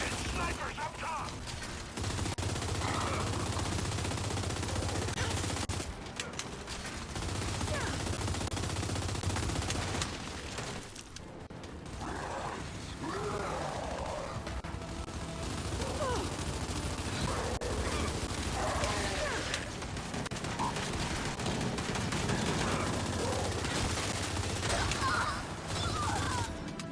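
Sniper gunfire in the Gear Up video game, heard as a steady, moderately loud stream of shots and mechanical clatter behind a constant low rumble, with players talking over it.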